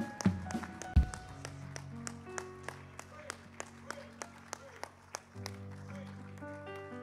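A church congregation claps in praise, steady rhythmic claps about twice a second over sustained organ or keyboard chords, with a few louder hits near the start.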